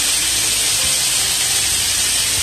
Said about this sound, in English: quickly sear